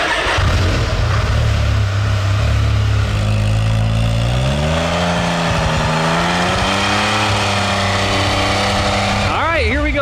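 The Beast Mode X3 engine runs close and loud with a lumpy burble, its pitch climbing and settling as the throttle is blipped, ending in a quick rising rev.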